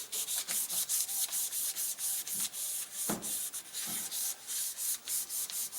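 Sandpaper rubbed back and forth along the length of a horn, a close, rhythmic series of raspy scratching strokes repeating steadily with short pauses, no talking.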